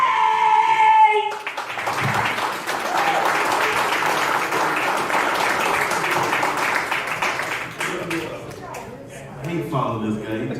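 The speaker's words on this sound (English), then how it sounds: "Make some noise for Nathan Chase!" A crowd at an open-mic stand-up comedy night in a Detroit saloon bursts into sustained applause and cheering for a comedian, loud and close. A voice speaks over the start, then the clapping fades into talk.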